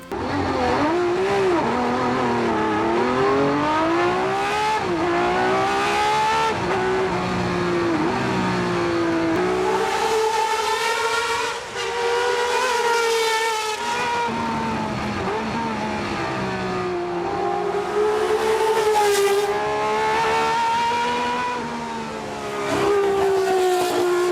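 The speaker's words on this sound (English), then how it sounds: "This has one of the best V12 engine notes of all time." A V12 race car engine in Forza Motorsport screams continuously through rising and falling gear changes, with high-pitched harmonics and brief lifts between shifts, loud and close.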